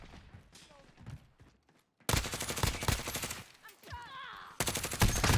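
Grau rifle gunfire in the Modern Warfare video game: rapid automatic bursts, loud and close, starting after a quieter opening with faint talk, cutting off briefly, then resuming with game voice chatter underneath.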